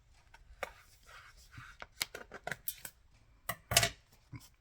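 Scissors cutting paper up close in a series of short, sharp snips at an irregular rhythm, interspersed with quiet paper rustling and no talk.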